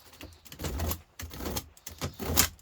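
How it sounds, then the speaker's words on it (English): Box knife cutting through wet humidifier material, a few close, short scraping and slicing strokes in quick succession with brief pauses between them. "when you're cutting with a box knife, always cut away from you guys"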